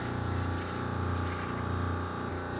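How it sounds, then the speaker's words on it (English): Steady, continuous rush of pump-fed water spraying the inside of a tank on a Mytee LTD Speedster carpet cleaning machine, under a low mechanical hum, loud and close, without a break. "turn your pump on, and it will spray water"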